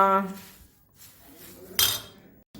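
A spoon stirring poha in a pan, with a brief metallic scrape and clink near the end after a short stretch of quiet, up close.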